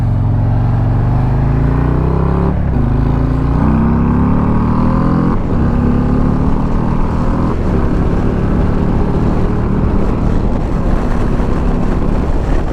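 A 2022 Harley-Davidson Street Glide ST touring bagger is ridden at speed on a highway. Its engine drones loud and close with rising pitch sweeps as it accelerates through the gears, under a steady rush of wind.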